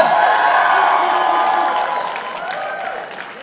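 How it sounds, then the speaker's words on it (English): Applause and cheering from a crowd at a walima wedding celebration in a Hilton hotel ballroom in London, loud at first and fading slightly over a few seconds. "massive round of applause and a respectful listen to the amazing Khan sisters!"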